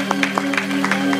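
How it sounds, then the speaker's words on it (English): Church congregation clapping in rhythm as they take their seats, sharp regular claps over a sustained musical hum. "Come on and clap your hands as you have your seat"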